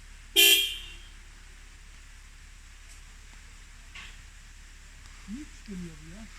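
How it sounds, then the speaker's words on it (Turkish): A single short, loud car horn toot from a Suzuki 4x4 that rolled down a cliff rings out near the start, followed by quiet background with a few faint distant sounds. "Aracın kornası hala çalışıyor."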